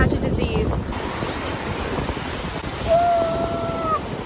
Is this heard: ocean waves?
yes